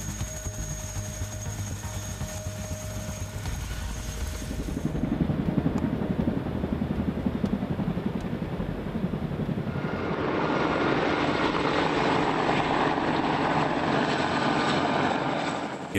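A heavy-lift military transport helicopter, a Boeing CH-47 Chinook, drones with a steady engine and rotor roar that swells midway and stays loud and continuous throughout.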